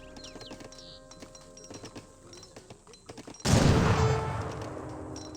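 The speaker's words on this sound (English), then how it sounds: "heard some gunshots there." Musket-style gunfire from the Age of Empires 3: Definitive Edition strategy game: a sudden loud burst of overlapping shots late in the clip, following quieter scattered game ambience and clicks.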